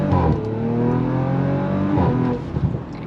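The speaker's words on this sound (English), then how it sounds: "You guys want to hear this exhaust?" Stage 2 tuned car making about 585 horsepower, its exhaust revving loud and close with a steady droning engine tone that climbs and falls in pitch, ending in a few choppy bursts as the throttle lifts.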